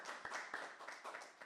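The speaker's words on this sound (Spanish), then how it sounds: "Por favor, un aplauso para ellos." Applause from an audience honouring a community, a steady patter of many hands clapping together, fairly close and moderately loud, continuous throughout with no speech over it.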